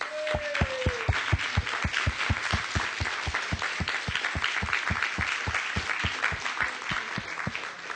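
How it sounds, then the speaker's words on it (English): An audience applauds Reverend Young in a hall, a dense, steady roll of clapping with sharp rhythmic claps standing out, sustained throughout. "Let's really applaud Reverend Young."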